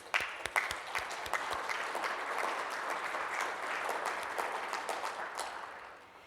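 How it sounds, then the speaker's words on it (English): An audience claps for volunteers at an annual general membership meeting, a steady wash of applause lasting several seconds with a few sharper claps at the start and fading slightly at the end. "I would like to take a moment to applaud all of you as volunteers"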